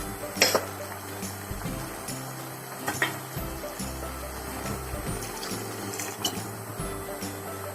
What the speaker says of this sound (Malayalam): കുറച്ചുകൂടി വെള്ളം ഒഴിക്കണം.